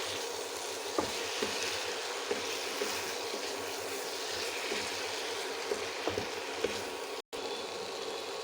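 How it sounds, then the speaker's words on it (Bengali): Dried shrimp and sweet gourd fry in a pan while being stirred, giving a constant sizzling hiss broken by occasional light taps and scrapes of a spatula, with one abrupt instant of silence near the end. "খুব ভালো করে নাড়িয়ে চাড়িয়ে কষিয়ে নিব।"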